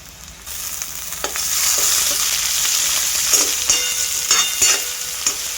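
Tomatoes frying with golden-browned onions in a pan for Kolhapuri whole masoor, a loud continuous sizzle with intermittent scraping stirs, close and unaccompanied by talk.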